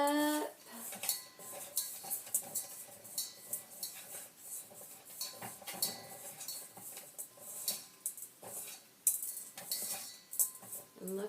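Cactus and succulent potting mix is stirred together with perlite, producing irregular scraping, clinking and rattling strokes against a hard container, close and moderately loud with short pauses between movements.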